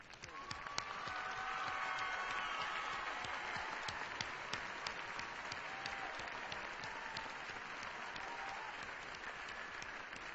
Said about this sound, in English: join in a round of applause to congratulate the class of 2013